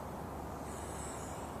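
Distant highway traffic makes a faint, steady broadband hum and rumble behind a quiet outdoor wilderness setting, with no voices.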